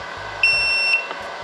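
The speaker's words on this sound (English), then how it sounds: "You can hear that beep." A single high electronic beep from a SwellPro Fisherman Max drone remote controller lasts about half a second, sharp and steady, heard over a faint background hum.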